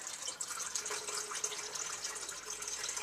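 Rinse water is poured off homemade butter, a steady close trickle and splash of liquid running continuously without talk.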